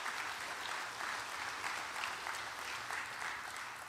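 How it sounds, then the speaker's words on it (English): A church congregation gives a long, even round of clapping in praise, a fairly faint, dense wash of many hands continuing without talk. "Come on, let's give the Lord a great big praise clap."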